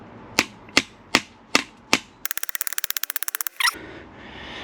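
A hammer knocks a bicycle fork down into the stem: five loud, evenly spaced metallic blows, then a fast burst of about twenty lighter rapid taps and one final sharper knock, close and with no talking.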